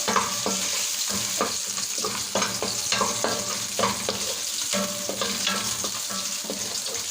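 Meat is stirred in a pan as its fat renders out before oil is added, giving a constant loud sizzle with scraping stirs of a utensil against the pan throughout, close up with no voices.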